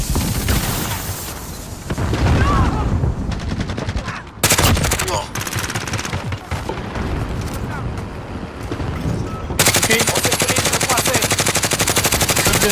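Rapid automatic MP5 submachine gun fire in Call of Duty: Warzone, loud sustained bursts with short pauses, an explosion-like boom partway through, and another dense burst near the end.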